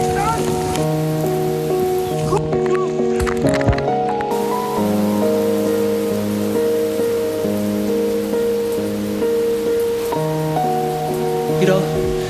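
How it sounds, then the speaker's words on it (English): Light drizzle patters steadily at 5 a.m., a soft continuous wash of rain on surfaces with musical tones playing over it throughout. "it was raining all right, you know, just a little drizzle out there"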